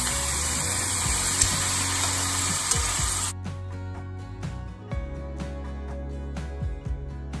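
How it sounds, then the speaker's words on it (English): Broccoli stir-fries in a pan with a broad, loud hiss that suddenly drops to a softer sizzle halfway through, with light scraping and stirring taps close by. "So you want to stir fry the broccoli until crisp tender for about 3 minutes"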